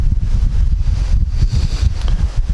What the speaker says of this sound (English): So we made it to the lake and it is windy.